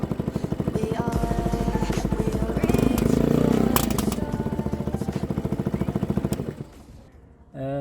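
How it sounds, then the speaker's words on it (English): A Baotian Sprint scooter engine, just after a carburetor cleaning, runs with a rapid, steady, close thumping that swells louder midway. It then falters and drops off near the end, with some musical tones mixed underneath. "I had to go a while with the starter engine, and then it started."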